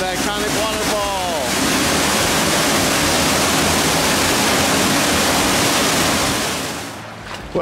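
An iconic waterfall in Kanarra Falls canyon roars as a loud, dense, steady rush of falling water close by, with a brief voice at the start before the water dominates.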